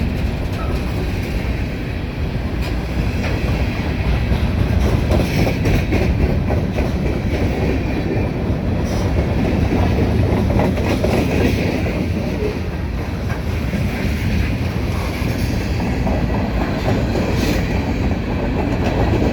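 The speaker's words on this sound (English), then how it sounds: "This train is going to go westbound towards Camden, Ohio" A Norfolk Southern freight train rolls westbound at medium speed near Seven Mile, Ohio. Its cars rumble and clack past in a loud, continuous roar with rhythmic wheel clatter, and no one talks over it.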